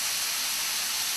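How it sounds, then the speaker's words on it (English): Onions cook in a pan with a loud, continuous sizzling hiss that holds steady and even throughout. "So you just want to cook the onions until they become a little bit soft and tender."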